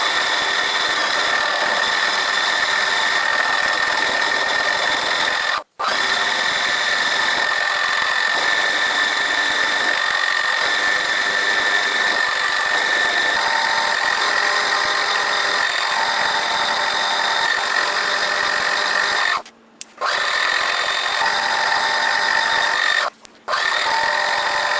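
A milling machine cuts holes in a metal part for a Hemingway Kit ball turning tool, a loud steady whine and hum with tonal ringing running continuously, broken by three brief stops.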